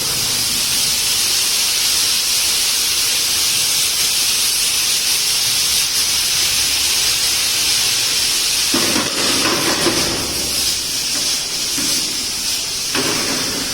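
Red wine poured into a hot pan of onions for Lyonnaise potatoes: a loud, steady steamy hiss and sizzle throughout, with a sharper burst of crackling spray partway through.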